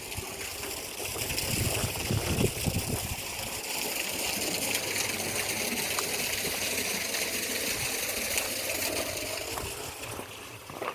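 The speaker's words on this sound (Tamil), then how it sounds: "போர் தண்ணி கிணத்துல ஊற்றிக்கிட்டு இருக்குது" Borewell water pours steadily into an open well on a farm, a continuous gushing splash heard at moderate distance with faint low engine or pump hum beneath.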